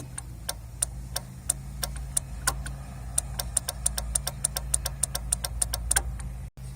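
Motorcycle turn signal flasher on a Simson SR50 moped with a single 21 W bulb, clicking steadily at normal pace, about twenty-five sharp ticks over a low idling engine hum.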